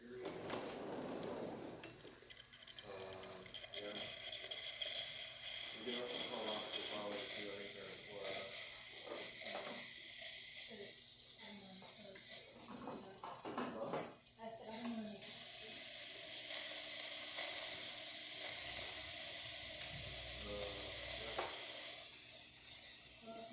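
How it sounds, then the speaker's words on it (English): A Gaggia Classic espresso machine's steam wand hisses after a full service, starting quietly with clinks and gurgles, then building into a loud, sustained steaming roar near the end. "So let's test the steamer."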